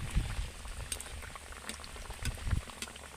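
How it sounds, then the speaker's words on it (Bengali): Potato samosas fry in hot oil, turned until crisp: a soft, steady bubbling and crackling with a few sharper pops and thumps, close by and without talk. "এইভাবে একটু করে তেল নাড়িয়ে নাড়িয়ে ভালো করে আমি লাল লাল করে একদম মুচমুচে করে ভেজে নেব"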